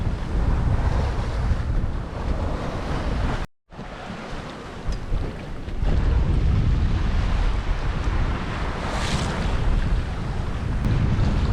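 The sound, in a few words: wind at sea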